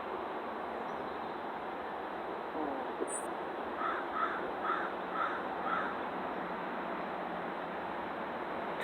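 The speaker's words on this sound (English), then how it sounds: "That same damn crow, did you hear it?" A crow caws five times in a steady series, the calls fairly distinct against a constant broadband outdoor rumble, with no voices.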